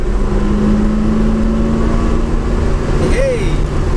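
A 1978 Pontiac Firebird with a three-speed automatic gearbox revs loudly after a shift into second, a steady, strong engine roar with a brief rising whine near the end while someone talks over it.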